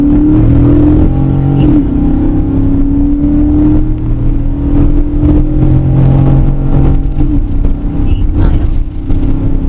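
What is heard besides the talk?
V8 Nissan Pathfinder with cold air intake accelerating hard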